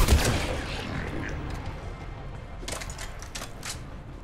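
Gunfire crackles in Mass Effect 3, starting with a loud blast, then rapid bursts of shots in the middle distance over a steady rumbling background.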